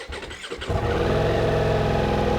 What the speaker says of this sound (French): Je vous propose qu'on démarre le moteur, qu'on écoute un petit peu la symphonie pour voir ce que ça donne.